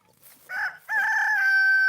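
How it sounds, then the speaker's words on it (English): A rooster crows loudly and at length, close by on a farm during morning chores, after a few short clucks from chickens. "Look at the chickens."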